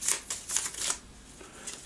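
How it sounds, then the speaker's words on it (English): A deck of DungeonQuest game cards is shuffled up close, giving a few quick crisp riffling bursts in a rapid rhythm, then a softer last flick. "Shuffle the deck and take another card."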